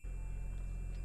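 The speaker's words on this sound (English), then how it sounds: "That is the sound of a whole body vibration machine." A whole body vibration exercise machine runs with a steady, continuous low hum and buzz that stays even and close throughout, with no talk over it.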